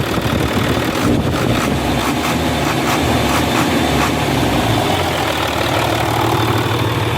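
A used six-wheel truck's engine idles steadily and loudly throughout, a constant low rumble with no change in pitch.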